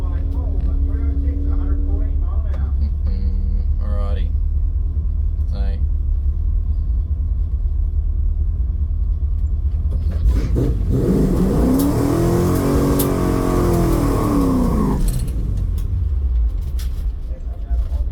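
A Toyota Supra drag car launches down the strip on small tyres, first idling with a low rumble, then a loud rising roar of revving engine sweeping past before fading away.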